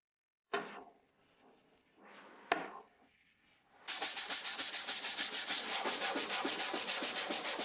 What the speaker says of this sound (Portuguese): Então foi para raspar e lixar o restante do armário